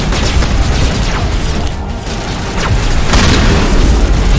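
Shotgun blasts in the video game Mass Effect, loud booming shots with mechanical clatter, dense and continuous, with a short dip midway before the firing resumes.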